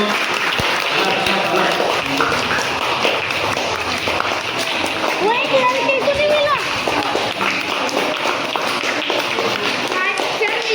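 Loud applause fills a school prize-giving for children at an Urdu school's Teacher's Day event, a dense and continuous clapping mixed with crowd murmur and a few thumps throughout.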